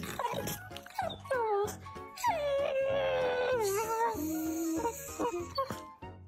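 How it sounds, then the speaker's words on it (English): A dog howls and whines in long wavering, rising and falling cries, close and fairly loud, with a few shorter yips between the drawn-out wails. "That was a cute dog"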